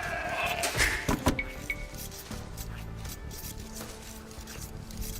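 Sheep bleating in the Age of Empires 2 game, a short bleat near the start followed by light clicks and soft game sounds against a quiet background.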